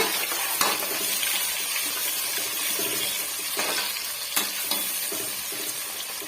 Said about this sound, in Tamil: வெங்காயம் ஓரளவுக்கு வதங்கி வரட்டும் பாருங்க